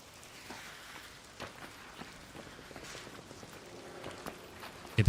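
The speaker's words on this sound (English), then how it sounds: "It becomes increasingly difficult as well to listen to anything with this rain." Rain falls steadily in the video game Arc Raiders, a dense hiss of drops on surfaces with scattered footstep-like taps and a sharp knock at the end.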